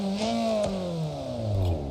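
A roughly 224-horsepower car in BeamNG.drive revs hard and loud. The engine note sweeps steadily up and down in pitch with no pauses, and nobody talks over it.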